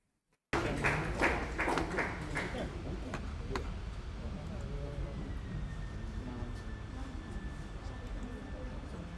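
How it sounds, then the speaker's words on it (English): Audience applause at a school annual day ceremony as award presenters come up on stage, starting abruptly and staying as steady, dense clapping from a large crowd, with a few sharp claps standing out early. "A round of applause as they come up on stage,"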